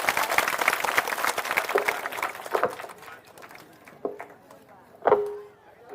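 A crowd at a village rally in Chak Jalal, Samastipur claps loudly and densely for a few seconds, and the applause then thins into scattered claps and crowd noise.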